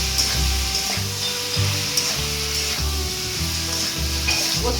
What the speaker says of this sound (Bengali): এটা ভালো করে নাড়িয়ে নিচ্ছি।